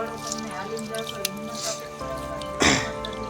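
Water drips and splashes as wet radish greens are squeezed by hand, with soft squishing and a louder gush near the end over a faint background voice.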